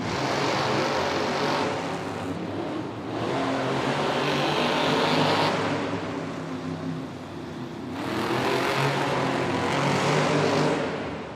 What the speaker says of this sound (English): It looks like Gravedigger is set, but not sure if Camden Murphy, there he goes.